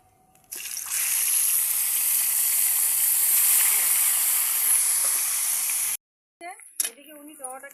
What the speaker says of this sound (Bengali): বাদ বাকিগুলো এরকম করে আবারও ভেজে নেব।